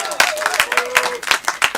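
At a live improv comedy show, the audience claps and cheers, with sharp bursts of hand claps and rising whoops arriving in quick, uneven waves at close range.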